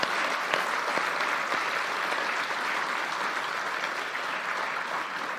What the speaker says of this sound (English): a very robust round of applause